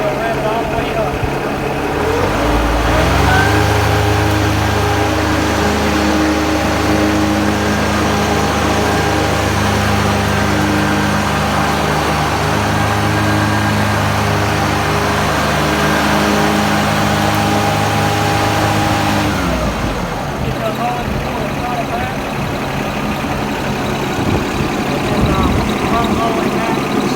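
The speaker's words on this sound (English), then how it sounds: "You'll rev it all the way up." A John Deere lawn tractor engine runs loud and close, idling steadily before revving up to a sustained higher pitch for about fifteen seconds, then dropping back to a rougher idle.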